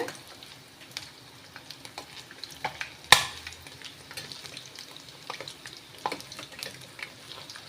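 Pieces of egg fry in a pan over a medium flame with a steady sizzle. Scattered scrapes and taps from turning them run through it, plus one sharp metallic clink partway through.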